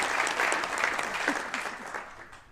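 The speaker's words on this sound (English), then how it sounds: "She deserves some applause, guys." Audience applause fills a room at a 2014 KPGA special awards presentation, a steady, dense clapping that holds for the full stretch and thins slightly toward the end.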